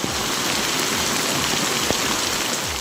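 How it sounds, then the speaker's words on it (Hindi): Light monsoon rain falls steadily in Multan, Pakistan, a dense, even hiss of drops with no break and no voices across the whole stretch. "मुल्तान में रात से हल्की हल्की बारिश का सिलसिला जारी।"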